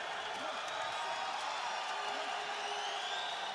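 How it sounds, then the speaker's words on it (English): A boxing arena crowd cheers for both fighters, making a steady broadband roar that holds at an even level throughout the short stretch. "listen to the crowd giving props to both fighters"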